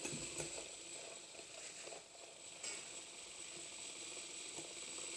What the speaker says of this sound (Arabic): الغسالة طبعا بتغسل القماشة اللي انا لسه حاططها دلوقتي ديت.